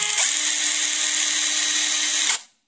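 Ingco 20V cordless impact wrench running at high torque, a loud continuous whirring motor whine that holds steady for about two seconds and then spins down and stops, with no talk over it.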